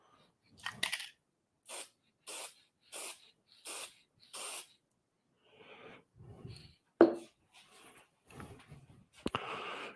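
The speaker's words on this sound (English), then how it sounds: "I'm just going to spray off camera here a little bit." Polyacrylic finish sprayed from an aerosol can onto turned wood: a series of short, sharp hissing bursts in steady rhythm, followed by softer handling clatter and a final brief spray.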